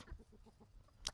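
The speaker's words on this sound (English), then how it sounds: "Oh, God, all the chickens are coming now." Chickens clucking nearby at a farmyard, several soft rhythmic clucks in a short burst, ending with a brief sharper squawk.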